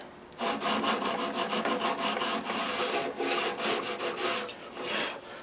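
Close, brisk hand sanding of a Guild F-30 guitar's wooden soundboard with 120 grit sandpaper, a rapid run of rhythmic back-and-forth scratchy strokes with a few brief pauses.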